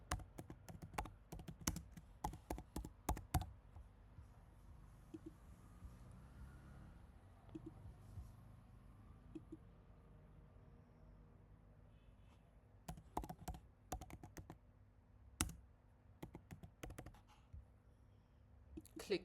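Keys clatter in irregular bursts as someone types into computer form fields, quiet close clicks separated by a stretch of low background hum with no talking.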